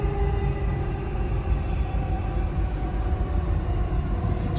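Dubai Metro train riding toward a station, a steady loud rumble with rolling wheel hum and faint tonal whine, continuous from inside the carriage with no talk.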